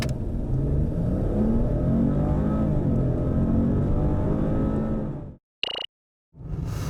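A Maserati Ghibli S Q4 Ribelle edition accelerates hard in a performance run, its engine a loud, sustained rising roar close by that ends abruptly, followed by a brief high whine and a moment of silence.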